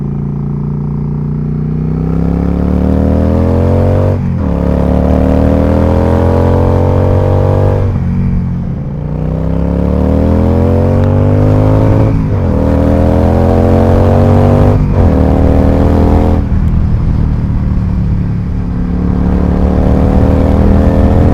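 A Yamaha V-Star 1100 cruiser motorcycle engine exhaust rumbles loud and close, rising in pitch through repeated accelerations with brief drops between gear shifts.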